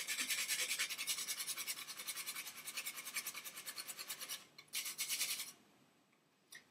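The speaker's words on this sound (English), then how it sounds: "It's going to be freshly grated." Whole nutmeg freshly grated on a small hand grater for cream cheese muffins: a close, quiet run of rapid rhythmic scraping strokes, pausing briefly near the end before a last short burst.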